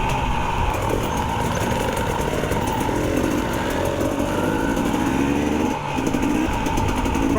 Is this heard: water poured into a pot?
no